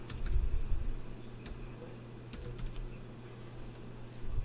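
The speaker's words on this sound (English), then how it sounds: "type in your name there" Keystrokes on a computer keyboard come in quick, irregular clicks, close and clear, with a steady low hum underneath and no talking.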